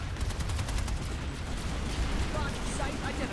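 Continuous rapid gunfire in a video game, dense and rattling throughout with voices talking over it.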